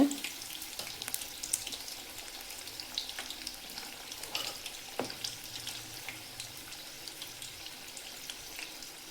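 Green chili bajji, North Karnataka style mirchi fritters, frying in hot oil, a soft continuous sizzle with scattered crackles and pops throughout, fairly quiet, no voices.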